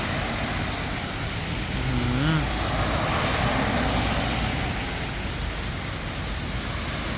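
Heavy storm rain pours steadily in Kanchanaburi, a dense, loud wash of sound with no break, and a faint distant engine hums briefly beneath it.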